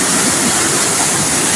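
Rushing floodwater pours through a cave during heavy rain, a loud, dense, continuous roar of churning water close by, with no voices over it.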